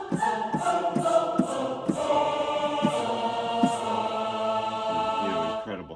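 A lush synthesized choir patch from Unify keyboard software sings sustained vowel chords, with soft rhythmic swells under a steady bed of voices that fade out at the end; nobody speaks.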